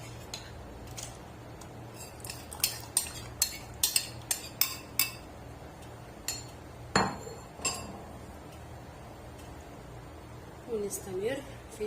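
A metal spoon scrapes and clinks against a pot of rice pudding with milk and starch in quick, uneven taps, with a soft background hum and faint talking.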